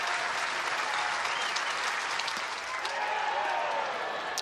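Sustained loud applause and cheering from a baseball crowd at a Nebraska versus Arizona State game, a continuous roar of clapping backing the pitcher on the mound.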